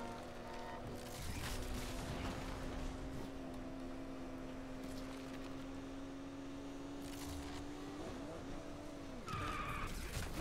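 Tires screech in a long skid as a car snaps into a sharp turn while chasing a Lamborghini in Need for Speed Unbound, a steady squeal over loud engine roar and game music, ending in a brief wobble.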